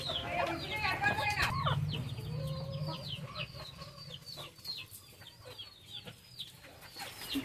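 Medak breed hens cluck and chatter near the microphone in quick repeated calls, with a low rumble early on and someone speaking over the birds.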